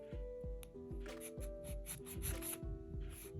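Coarse nail file worked back and forth along the edges of an Acrygel nail extension, a steady run of close, quick rasping strokes with no talking.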